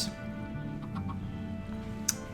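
Chickens on a poultry farm in Minecraft give soft, scattered clucks over a steady low background hum, with one sharper cluck near the end.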